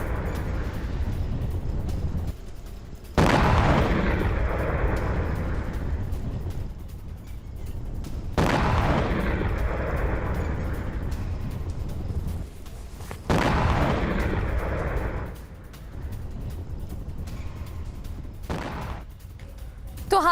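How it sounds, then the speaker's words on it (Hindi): ATACMS and PrSM missiles launched from Kuwait, with several loud, roaring launch blasts spaced a few seconds apart, each fading into a sustained rumble, heard outdoors at some distance. "कुवैत से ATACMS मिसाइल दागी गई और प्रिज्म मिसाइलें भी लॉन्च की गई"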